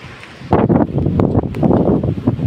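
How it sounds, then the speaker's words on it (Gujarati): Storm wind gusts and roars against the microphone in loud, uneven bursts after a brief quiet start, buffeting and rustling throughout. "વાવાઝોડું શરૂ થઈ ગયું છે"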